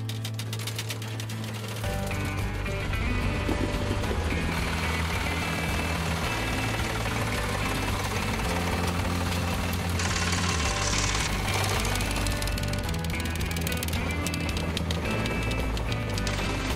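A tractor engine runs steadily and loudly throughout, with a constant low rumble and rapid mechanical knocking. The sound swells slightly after the first couple of seconds and stays close and dominant.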